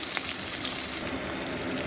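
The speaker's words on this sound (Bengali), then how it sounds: "তেলটাকে ভালো করে গরম করে নেবার পরে এর মধ্যে ছিটিয়ে রাখা একটা মিডিয়াম সাইজের পেঁয়াজ দিয়ে দিলাম" A medium-sized onion sizzles steadily in hot oil in a home kitchen, a close, even hiss and crackle that holds throughout with no voices.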